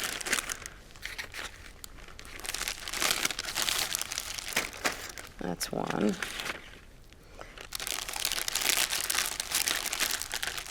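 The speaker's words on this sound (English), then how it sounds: "So to marinate it, I'm going to put it right in this plastic bag." A plastic bag crinkles and rustles loudly up close as meat is placed inside to marinate for a dinner party main dish, in repeated bursts with a brief pause, while a person speaks.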